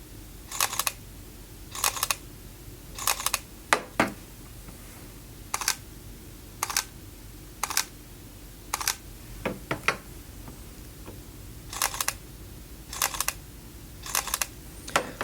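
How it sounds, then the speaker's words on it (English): Sharp shutter clicks from Sony A7 and A7R mirrorless cameras, mostly in quick pairs, repeat at a steady pace, crisp and close against a quiet room. "that's the shutter sounds between the two, the A7R and the A7"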